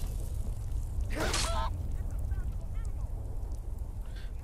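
A chicken in The Elder Scrolls V: Skyrim gives a short squawking burst, then a few faint clucks over steady game background rumble.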